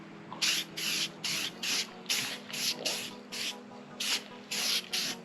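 A spray paint can lays a light coat into the corners in about ten short, evenly spaced hissing bursts, close and fairly soft, with quiet pauses between them.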